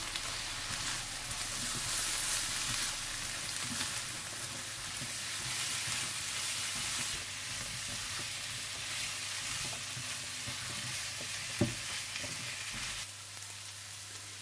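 Samosa filling frying in a pan with salt, crushed red chili and garam masala, giving a soft, even sizzle that runs steadily throughout, fairly faint, with one brief clink near the end and no talking.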